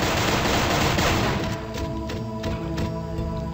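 Video game gunfire erupts in a dense, loud burst of rapid shots, then eases into scattered reports and rumbling echoes over a steady mechanical hum, with no talk.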